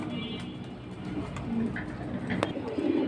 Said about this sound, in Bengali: এগুলো ছাড়াছাড়ির জন্য সিলভার কবুতর